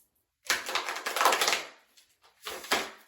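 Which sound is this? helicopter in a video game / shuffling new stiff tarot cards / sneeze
shuffling new stiff tarot cards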